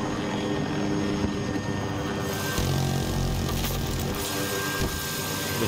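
Helicopter in the shooter game Battlefield 2042, a steady droning rotor and engine roar that holds loud throughout, with a deeper rumbling swell partway through and no talk over it.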